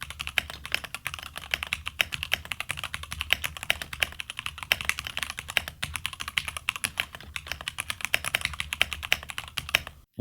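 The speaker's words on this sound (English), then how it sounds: "it will please mechanical keyboard owners who want to hear the clickiness while still maintaining a certain peace and quiet" Fast, steady typing on an Epomaker Shadow-X mechanical keyboard, each keystroke a crisp, close click in a quick continuous patter that carries on alone without a break.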